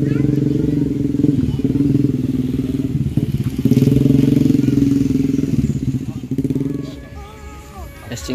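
A motorcycle engine rumbles nearby, revving and idling with uneven surges, with faint clatter at the end.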